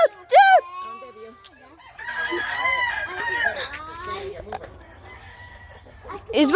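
Chickens in a backyard flock cluck and crow up close. A loud crow opens and closes the stretch, with a busy run of squawks and clucks in between.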